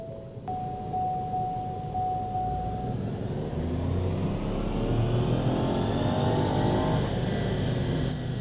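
A Ford Focus ST-Line with the 1.5 EcoBoost engine revs hard on a tuning run, a loud steady rising drone with the throttle wide open, no talk over it.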